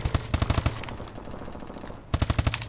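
Rapid bursts of ASM1 submachine gun fire in Call of Duty: Advanced Warfare, close-range combat with two quick strings of shots separated by a quieter stretch of background game noise.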